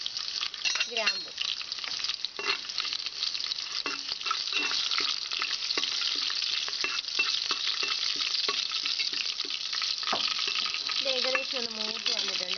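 Bay leaves, cinnamon, cardamom and cloves crackle in hot oil for a pressure cooker chicken biryani, a steady close sizzle with occasional utensil clinks and a brief voice at the start and end.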